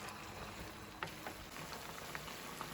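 Chicken frying with onions in a pan, a quiet continuous sizzle and crackle with scattered small pops, heard close and alone.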